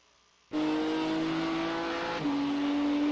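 A race car engine in the iRacing simulator starts abruptly and holds a steady droning tone, which shifts slightly in pitch partway through, loud and close with no speech.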